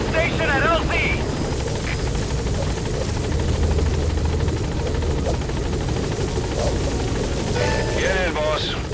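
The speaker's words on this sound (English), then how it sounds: "Support helicopter has arrived." A support helicopter in Metal Gear Solid V: The Phantom Pain arrives at a landing zone, its rotor drone steady and loud throughout, with radio voices and game interface beeps over it.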